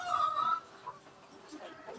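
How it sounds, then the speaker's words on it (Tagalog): Backyard roosters sound off on a small Filipino farm, with a bright strained crowing call in the first half-second followed by softer scattered clucks and faint farmyard noise, fairly quiet overall. "itong dalawang malalaki na tumitilaok na"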